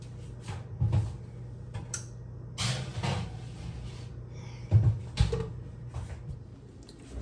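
An oven door, set for 450 degrees, opened and shut with a few thumps and a soft creak, separate knocks spread across the clip with quiet stretches between.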